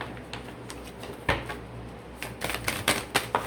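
Crisp taps and flicks of playing cards handled one at a time on a table, sparse at first and then quicker in a run of close clicks.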